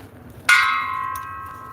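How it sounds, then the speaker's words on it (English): A single clear metallic bell ding strikes and rings out with a long, steady sustain over a low background rumble, close and fairly loud. "You hear the ding, for whom the bell's toll."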